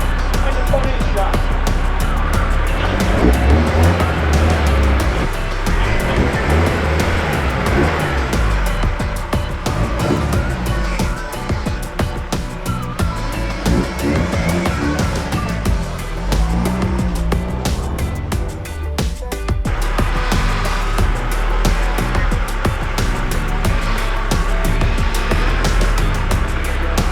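A VW Transporter camper van engine runs and drives continuously, a steady mid-level motor drone with road noise and occasional rattles throughout, fairly close.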